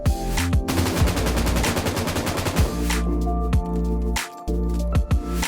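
Sustained automatic gunfire in PUBG Mobile during a bullet spread test, a long dense run of loud close shots followed by a few shorter bursts and single cracks.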